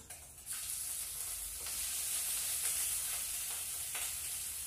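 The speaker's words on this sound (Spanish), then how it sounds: "Mientras se fríe nuestra longaniza" Longaniza sausage sizzles in a frying pan with a steady, fairly quiet hiss and a few faint crackles throughout.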